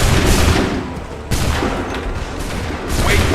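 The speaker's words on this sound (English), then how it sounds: "Open fire!" Musket volleys in Assassin's Creed III, a dense, loud crackle of massed black-powder shots, with a fresh burst about midway and another rise near the end.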